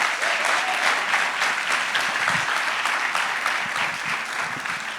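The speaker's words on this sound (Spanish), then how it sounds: "Eso se merece un aplausote." Church congregation applauding during a sermon, loud dense clapping from a large crowd, sustained and close, tapering slightly toward the end.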